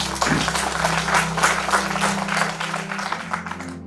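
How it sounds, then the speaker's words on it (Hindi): Sustained applause from an audience at a community talk event, a dense, steady wash of many hands clapping that holds for several seconds before tapering slightly. "एक बार अपने लिए तालियां हो जाए"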